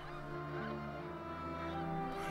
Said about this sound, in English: snow geese